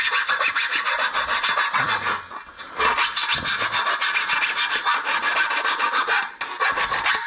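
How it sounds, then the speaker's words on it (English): A file rasps steadily along the cut edge of cable trunking in long, continuous strokes with brief pauses, close and loud, with no talk. "with any trunking, give it a bit of a file"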